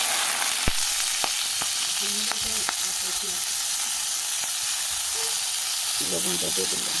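Green peas fry in hot mustard oil with a loud, dense, continuous sizzle that holds steady throughout, broken by a few faint knocks and a brief murmur of voices.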